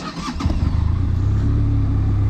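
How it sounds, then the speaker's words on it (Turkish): A motorcycle engine catches and starts, a quick cranking sputter settling into a steady, close, low idle. "Motosikletimi çalıştırıyorum"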